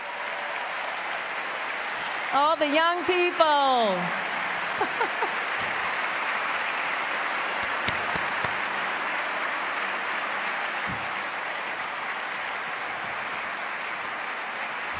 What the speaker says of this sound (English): let's give them a warm and hearty round of applause